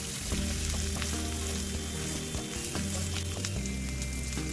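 Chopped spinach patra rolls fry in oil in a pan with sesame seeds, curry leaves and chilies, giving a continuous close sizzle with small pops and occasional stirring scrapes.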